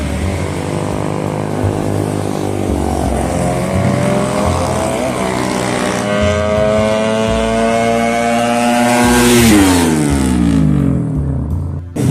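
A 130cc drag-race motorcycle on a test run: a loud, buzzing two-wheeler engine revs up steadily through the gears to a high scream, then drops off sharply and fades, close and alone.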